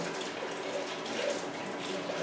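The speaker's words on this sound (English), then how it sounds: "I just take the boiling water and I pour it straight over everything." Boiling water is poured straight over freshly washed jars, a steady loud splashing pour that runs unbroken throughout.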